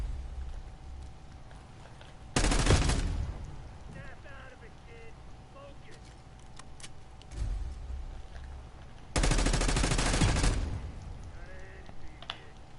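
Gunfire in the Black Ops 6 beta: two loud, dense bursts of shots several seconds apart, with talking heard in between.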